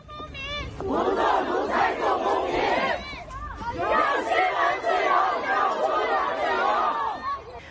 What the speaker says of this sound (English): And in China's capital, Beijing, crowds gathered to demand freedom.